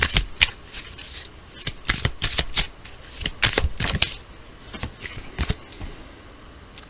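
Tarot cards are shuffled by hand in quick bursts of crisp riffling and slapping, close and fairly loud, with short pauses between flurries and no voices.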